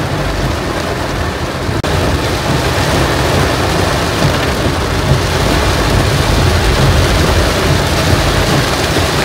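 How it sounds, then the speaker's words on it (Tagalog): Heavy typhoon rain pounds a moving car, a loud, dense, continuous roar of drops on the roof and windshield with deep thunder rumbling underneath and engine noise faintly mixed in. "Sobrang lakas ng ulan."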